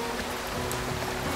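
Continuous broadband rush of water from a small waterfall or flowing stream beside a lake, steady and close with no talking.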